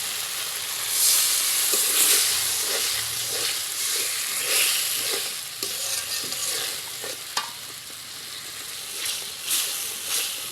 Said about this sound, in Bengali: সব মশলাগুলো কষানো হয়ে গেছে মশলার উপর থেকে তেল ছাড়তেছে এখন দিয়ে দিব বেটে রাখা কাজুগুলো